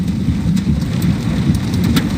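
A hailstorm with marble-sized and occasional larger stones pelts a vehicle in a dense, continuous patter, with sharper clicks of individual impacts standing out over the steady roar.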